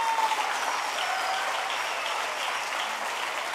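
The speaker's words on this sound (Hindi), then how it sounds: "तालियां नहीं रुकनी चाहिए।" Applause from an audience at a wellness and women-empowerment stage event, sustained and even, heard from a moderate distance. A few faint whistles cut through the clapping.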